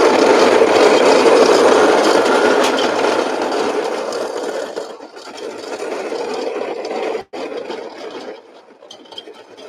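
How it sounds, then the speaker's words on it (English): A coffee grinder set to a medium grind crushes beans in a loud, gritty, continuous whir that fades somewhat and drops out briefly before resuming, with no voices over it. "We're gonna do some grinding here. We're at a medium grind"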